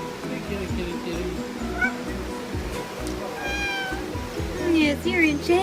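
A cat meows several times, rising and plaintive, against a rushing background, with people talking alongside.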